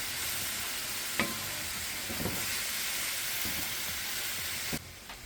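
Capsicum stir-fries in a hot pan with a steady, broad sizzle and hiss, broken by a few sharp clacks and scrapes of a utensil stirring and tossing the pieces.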